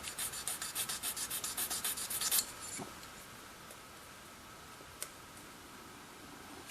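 The finer side of a file or sanding tool rubs back and forth over a large, flat surface, giving a quick run of rhythmic scraping strokes that stops partway through. The strokes are faint and close, and a couple of light ticks follow in near silence.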